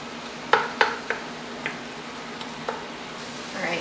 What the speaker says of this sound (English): I'm continuing to stir this because I don't want it to burn on